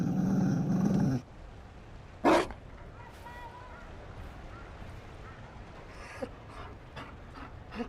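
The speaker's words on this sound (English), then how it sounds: "You found a dog." A Mabari war dog in the fantasy game Dragon Age Inquisition growls and pants, its low rumble and brief loud huff sitting under steady game ambience.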